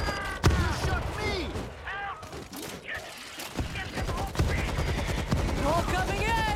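Bursts of gunfire from the zombie shooter World War Z, set in Jerusalem near the Dead Sea, crackle through the scene in scattered volleys beneath frequent shouting and talking voices.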